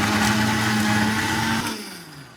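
A Disnie Maz 1000W blender turns watermelon into juice with a loud, steady whirring motor roar that spins down and fades after a second and a half.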